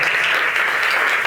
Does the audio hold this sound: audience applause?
yes